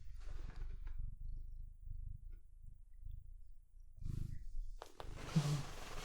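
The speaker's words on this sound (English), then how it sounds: "you're purring" A large Maine Coon cat purring close up, a steady low rumbling purr running throughout with short breaks, a louder rough burst near the end.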